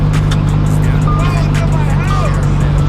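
A Lamborghini Huracan Evo sports car drives along, its engine a loud, steady low drone under a constant wash of road and wind noise, with voices faintly audible over it.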